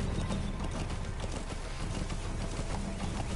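Horse hooves clip-clopping in the video game Metal Gear Solid V: The Phantom Pain, a quick rhythmic patter of steps at close range over a low rumble of game noise.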